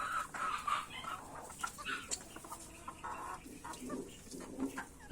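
Hens cluck in a backyard flock of about sixteen laying hens of breeds such as Rhode Island Red, with soft scattered clucks and calls at moderate distance and no talk.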